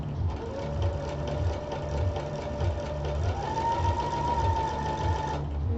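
A sewing machine stitches pin tucks with a double needle, a steady close mechanical whir and rhythmic thump with a faint rising whine.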